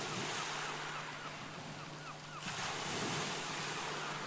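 Sea waves breaking steadily along an island shore, a continuous loud wash of surf with wind buffeting the microphone and the roar swelling midway through.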